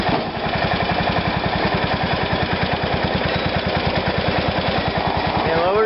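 Garden tractor engine running close by while its hydraulic lift raises a snowblower, a loud, steady, rapid thumping engine pulse with a faint whine rising at the end.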